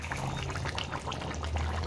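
Water pours into a chicken curry cooking in a pan, a steady liquid stream with faint trickling and bubbling, close by and without voices.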